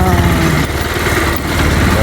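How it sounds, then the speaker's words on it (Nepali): A motorcycle engine rumbles loud and close during a ride along a riverbed, a steady vibrating drone with a voice talking over it. "म बाइक राइड गर्दैछु"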